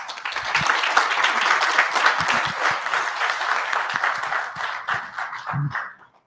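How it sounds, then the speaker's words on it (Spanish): Sustained audience applause fills a hall at an international meeting, thick and even for several seconds before tapering off and dying away at the end. "La verdad que es un aplauso"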